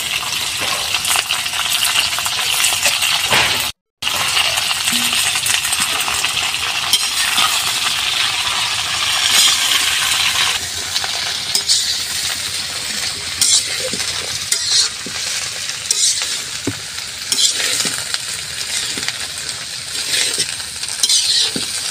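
Sliced cabbage and carrots hit hot oil with frying onions and chilies, giving a loud, steady sizzle with stirring and scraping throughout, a brief pause near the start, then continued crackling frying.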